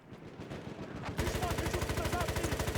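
Machine gun fire in Battlefield 1, starting after a second of muffled battlefield noise, then a rapid, steady, loud burst of evenly spaced shots that carries on to the end.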